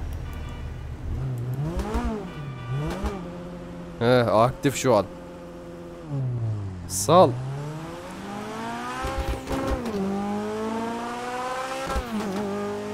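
A car in GTA 5 launches with launch control, engine revving up through repeated rising gear sweeps with bursts of tire squeal, loud and close, while someone talks over it.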